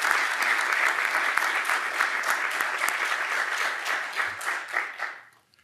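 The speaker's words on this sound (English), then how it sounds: "Please join me in giving them a round of applause." A large audience at a 2024 State of the City address in Columbia, Missouri applauds city council members, a sustained, bright roar of many hands clapping that holds steady and then fades out at the end.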